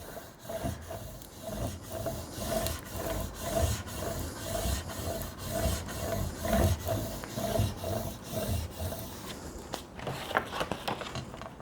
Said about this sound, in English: I'll just burnish everything down.